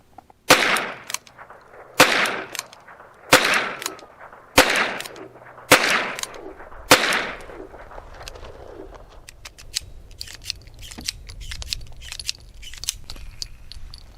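A Ruger .22 pistol fires six rounds of CCI Uppercut ammunition, sharp loud cracks spaced about a second apart, followed by faint clicks and rustling handling sounds with no talk.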